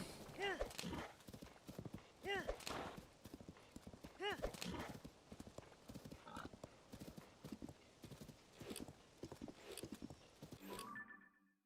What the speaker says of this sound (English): Pretend you didn't hear that horse.